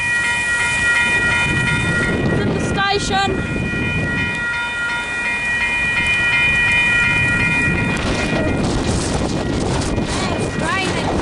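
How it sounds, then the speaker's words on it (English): Train passing the Plimmerton level crossing in the rain, a steady rumble of rail traffic with sustained crossing bell tones and a brief horn-like burst, while a person talks over it. "There's a train coming."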